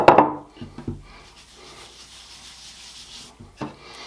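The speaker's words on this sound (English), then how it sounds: "And we're just going to roll this out gently." A rolling pin working pie crust dough over a floured work surface: soft, steady rubbing and scraping strokes, with a few light knocks at the start and end, close and fairly quiet.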